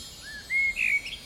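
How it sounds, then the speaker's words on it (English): A bird in a park gives a brief pair of thin, high tweets, clear but fairly quiet over a soft outdoor background. "The birds are tweeting and I can hear the rustle of leaves on the trees."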